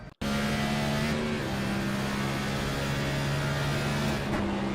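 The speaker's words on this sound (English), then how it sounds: "I think he upshifted and it upset the car." A race car engine runs loud and steady at high revs during a NASCAR-style Cup Series race in Nashville, with tonal engine lines that shift pitch as it upshifts, and no voices over it.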